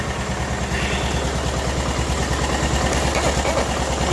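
The engine of a 1988 Club Car golf cart, fitted with a new carburetor and fuel pump, idles steadily with a rapid, even, close-up chugging putter and no speech.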